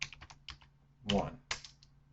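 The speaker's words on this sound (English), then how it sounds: "we're going to type beautiful1" A password being typed on a computer keyboard: a quick run of close, light key clicks, a louder thump midway, then a few more taps, with no voice.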